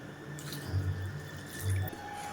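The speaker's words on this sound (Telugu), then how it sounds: "నీళ్లు పోద్దాము." Water poured into a pot of chicken curry, a short trickling splash of liquid with two fuller gushes, close and fairly quiet.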